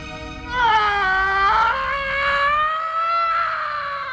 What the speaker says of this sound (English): He screams like a baby elephant